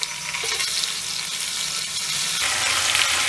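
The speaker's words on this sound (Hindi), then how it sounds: "कुछ सेकंड्स के लिए इसको भी भून लेते हैं ताकि अदरक लहसुन का कच्चापन निकल जाए।" Ginger garlic paste sizzles in hot oil with light pink fried onions, a steady close crackle of frying with stirring throughout and no speech.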